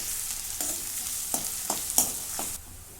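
Finely chopped onion fries in hot oil in a home kitchen pan, a steady close sizzle broken by several sharp scraping stirs of a spoon against the pan, with no voices.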